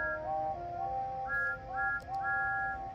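Steam engine whistles from a Thomas and Friends style story, sounding as loud, sustained tonal blasts that overlap and repeat across a few seconds over a steady rumbling background, with no talking.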